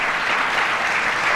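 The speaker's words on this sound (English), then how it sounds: "Another round of applause for all of our grantees." A crowd at a community development grant announcement claps loudly and steadily, a brief, dense burst of applause with no talking over it.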